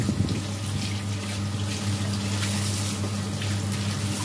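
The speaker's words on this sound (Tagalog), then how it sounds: "huhugasan ko yung chicken feet." Steady rush of tap water pours into a sink as chicken feet are washed under the stream, a continuous close, even flow with no talking.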